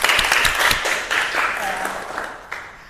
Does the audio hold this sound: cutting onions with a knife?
no